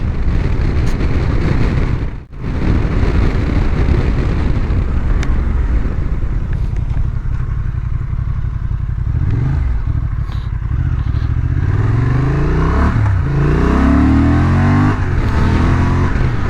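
A Honda Transalp 750 motorcycle engine pulls hard at high revs, with a loud, continuous close-up drone and steady roar plus wind rush, its pitch rising in sweeps toward the end.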